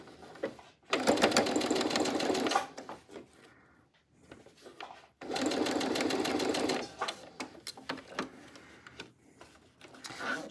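A sewing machine stitches a wallet's lining along the zipper seam in two long, steady bursts of rapid mechanical chatter, with quieter handling clicks and fabric rustling in the pauses between them.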